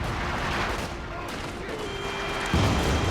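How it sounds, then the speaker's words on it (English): Artillery bombardment in the World War II strategy game Company of Heroes 2, a dense rumbling barrage of distant blasts with a heavier thump near the end, continuous and fairly loud. "See, look, they're just bombarding right here."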